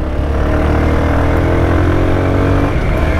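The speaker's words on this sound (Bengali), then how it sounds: "আমি বাইক আনতেছি খুব জোরে।" A Monotone motorcycle ridden fast holds a loud, steady, close engine roar with a rich low drone that shifts slightly in pitch as it pulls hard, with no voices.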